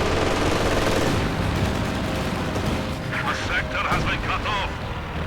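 Stuka dive bomber strafing run in Company of Heroes 2, a loud continuous roar of rapid gunfire and blasts with sharp bursts later on, dense battle noise and a commentator's voice mixed underneath.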